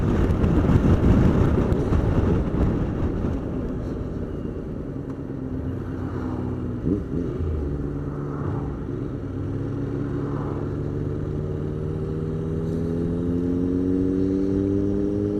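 Heavy road traffic stopped in a queue near Southwold in East Anglia, heard from inside a vehicle as a steady engine rumble and road roar, with low engine tones rising and drawing out near the end, and no talking.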